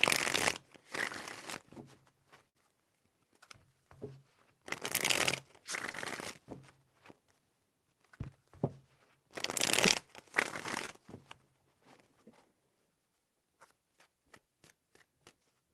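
Cards are shuffled three times in crisp riffling bursts, separated by pauses with faint handling noises and light taps.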